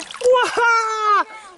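A toy monster truck splashes into water outdoors on a hike, a few quick wet splashes close by, overlapped by a child's loud, drawn-out voice.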